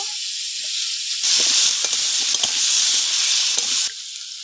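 Potatoes with salt and turmeric sizzle loudly in a hot pan for a fish roe curry, a steady frying hiss with small stirring scrapes that rises sharply after a quieter start, with no talking.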